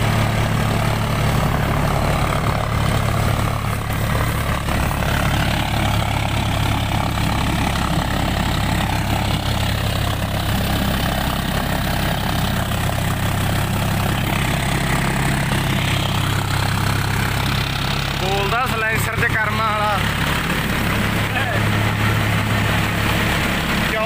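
John Deere 5050D tractor engine idling nearby, a steady low diesel rumble that holds even throughout, with a brief higher warble near the end and no clear speech over it.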